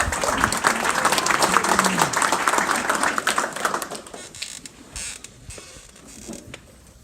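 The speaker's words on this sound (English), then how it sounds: "Let's give him a round of applause as he comes." An audience at an Exchange Club student-of-the-month gathering in Brunswick bursts into close, dense applause that holds for a few seconds, then thins and tapers into scattered claps and room noise.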